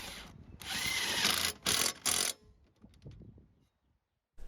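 A power drill whirs loudly for over a second, then gives two short bursts before stopping; faint mechanical clicks follow. The drill is used while repairing a Murray lawn mower that won't start.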